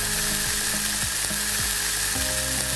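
Scored beef pieces sear in a smoking hot pan for an Irish beef stew, giving a loud, steady, close sizzle with faint tonal hum in the background.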